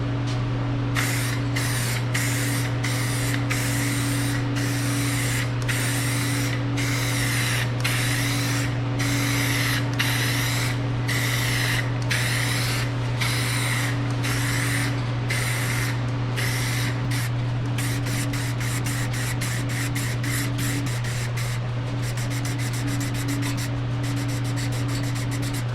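A rattle spray can sprays clear coat onto a rusty truck bed in repeated short hissing bursts with brief pauses, close and steady, over a constant low electrical hum.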